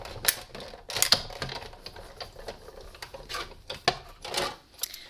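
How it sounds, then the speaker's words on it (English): A hand-cranked die-cutting machine rolls stacked cutting plates through, giving irregular clicking and clacking ratchet-like taps with short bursts of grinding between them, fairly close and without talk. "take your other cutting plate and place it on top. And then we're going to roll this through."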